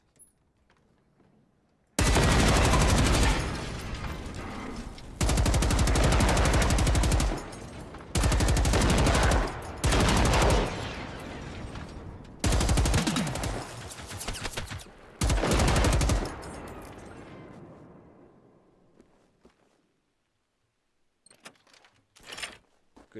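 Automatic gunfire in the shooter game Generation Zero, several loud sustained bursts of a couple of seconds each separated by short pauses, ending in quiet with a few faint clicks.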